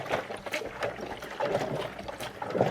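Water sloshes and trickles while clothes are rinsed inside a Wonder Wash hand-cranked washer, a close, uneven swishing in repeated surges.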